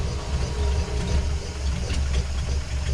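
A cold 1940 Ford Tudor engine idles after a no-start problem, giving a steady, loud, low rumble throughout with no talking.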